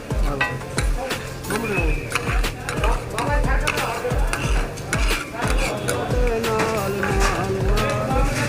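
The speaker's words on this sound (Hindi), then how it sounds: "ये जो टकाटक की आवाज़ है कितने म्यूज़िक टाइप से बजा रहे हैं" Metal spatulas clatter and chop food on a street-food griddle at a Lahore burger and club sandwich stall. The rapid, rhythmic tak-tak clanging is loud and close, with busy background bustle.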